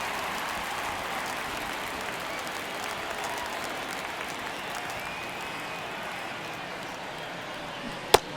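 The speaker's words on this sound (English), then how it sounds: "Crowd locked in right now." Stadium crowd noise from the baseball video game MLB The Show 23, a steady, dense roar of cheering and applause through the ninth inning of a one-run game, with a sharp crack near the end.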